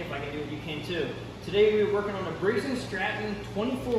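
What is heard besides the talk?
None of the usual background noises is heard.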